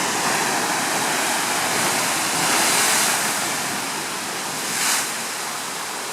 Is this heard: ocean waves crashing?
yes